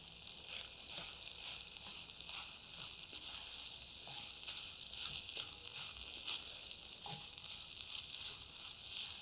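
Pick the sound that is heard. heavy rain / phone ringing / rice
rice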